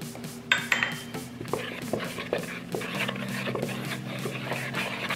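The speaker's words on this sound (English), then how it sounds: "in a large bowl, you're gonna stir together your cocoa powder and your baking soda" A utensil scrapes and taps against a bowl while cocoa powder and baking soda are stirred together, with soft clinks and a faint hum underneath.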